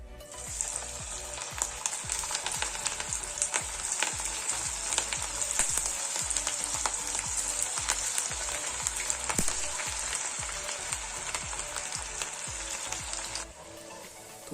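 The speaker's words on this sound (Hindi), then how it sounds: "तो चलिए फिश टिक्का को करते हैं फ्राई" Semolina-coated fish tikka fries in hot oil over a medium to high flame, a loud, continuous bright sizzle crackling with dense popping that stops abruptly near the end.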